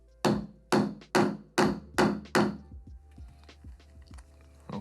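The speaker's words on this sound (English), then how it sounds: "once the hole is punched" A small fastener tool punches a hole into a plate on a British classic car, giving six sharp, loud metallic strikes in quick, even succession, followed by fainter ringing taps and clicks.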